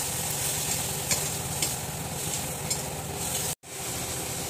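Green chillies fry with saltwater tiger prawns in a pan, giving a steady, close sizzle with stirring scrapes. A brief cut to silence interrupts it just past the midpoint.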